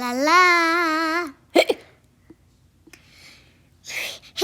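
A storyteller's voice imitates the hiccups of a cartoon kitty in a children's bedtime story, giving a few short, sharp vocal bursts after a brief sung note, with quiet pauses between them.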